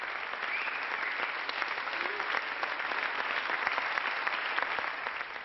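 A theatre audience applauds steadily after a fairy-tale play staged around La Rochelle, a dense, even wash of clapping that holds level throughout without voices.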